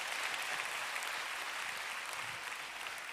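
A church congregation claps in sustained, even applause during a worship service, a broad wash of many hands filling the space at steady volume with no speech on top.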